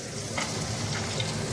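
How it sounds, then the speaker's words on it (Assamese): Papad fries in hot oil with a steady, close hiss and crackling sizzle that holds evenly throughout, no voices over it. "এতিয়া পাপৰ ভাজি আছোঁ"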